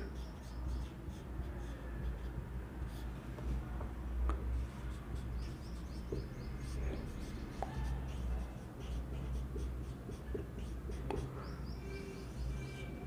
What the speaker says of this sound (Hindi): एक नोट डाल के लिखते हैं